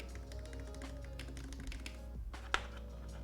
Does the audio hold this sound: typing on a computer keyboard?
yes